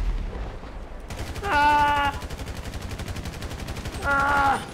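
Rapid automatic gunfire in the GTA V video game rattles in a steady, fast burst throughout, with two louder tonal swells from a vehicle or siren-like sound layered over the shooting.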